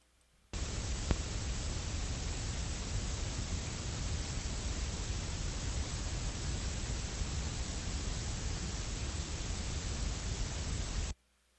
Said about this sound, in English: So here is what gray noise sounds like.